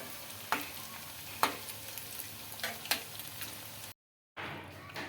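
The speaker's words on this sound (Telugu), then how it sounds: "ఇంకా ఇదే విధంగా అన్నీ అయితే కాల్చుకోవాలండి గోల్డెన్ కలర్ వచ్చే వరకు" Maggi Manchurian balls fry in hot oil until golden, a soft continuous sizzle with repeated clicking turns of a spoon, briefly cut by a gap of silence near the end.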